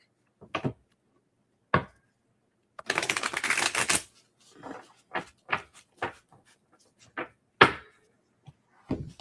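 Tarot cards are laid out for a three-card reading: sharp isolated slaps and taps of cards set down on a surface, with a brief burst of shuffling, and quiet gaps between.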